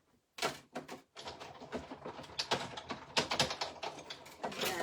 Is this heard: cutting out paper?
yes